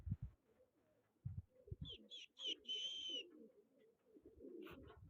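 Pigeons coo in a short run of soft, repeated calls near a tree, heard in the middle stretch over rustling and scattered low thumps, with a faint voice at the start.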